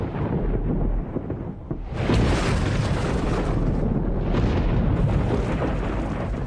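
Thunder booms and rolls above an ancient, oxygen-rich tropical forest in a nature documentary. A low murmur gives way to a loud, sustained, close rumble that keeps grumbling to the end, with no voices.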